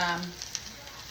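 Hamburger meat fries in a pan with a steady, close sizzle that eases off slightly, a couple of faint clicks, and no talk.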